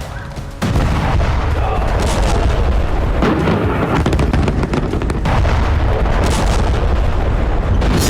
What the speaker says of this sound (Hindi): सीरिया पर नॉन स्टॉप बमबारी जारी है।